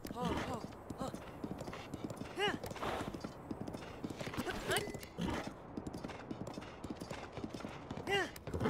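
Horse hooves clip-clop at a steady trot in Zelda: Breath of the Wild, with rhythmic close footfalls and occasional whinnies while a player talks throughout.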